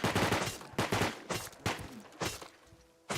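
Bursts of SMG fire in Rust during a zombie attack at a harbor, seven or eight short, loud volleys in a fairly even rhythm with brief gaps between them.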